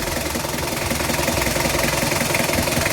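A 2000 Mitsubishi Kuda GLS diesel engine in good condition idles with a loud, close, steady clattering rumble, with no talking over it.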